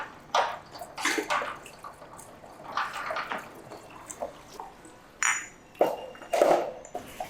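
Glass goli soda bottles are rinsed in water tanks at a soda factory in Madurai, with splashing, sloshing water and occasional clinks of glass in irregular bursts against steady background noise, no voices.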